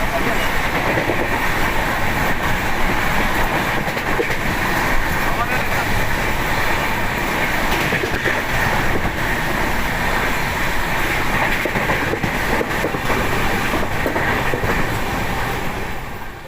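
A passenger train bound for Howrah, Kolkata rumbles steadily on the rails with constant loud wheel and carriage noise heard from inside, continuous throughout with faint voices underneath.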